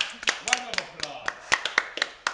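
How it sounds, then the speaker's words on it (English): A small group claps as a co-host is brought onto a show, with sharp uneven claps over a couple of seconds while voices talk at the same time. "Round of applause."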